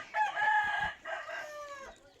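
A fighting cock with spurs, bred as a knife-legged gamecock, crows close by in one long, loud, strained call with a brief break in the middle.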